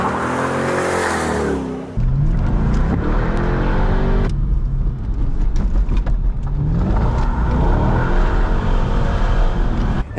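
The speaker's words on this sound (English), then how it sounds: "I picked up this 2002 base model C5 Corvette" A 2002 base model C5 Corvette engine roars through hard acceleration and shifts, loud and continuous for about ten seconds, with a brief dip in pitch as revs drop and climb again, plus faint tire noise.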